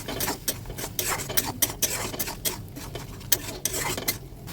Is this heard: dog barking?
no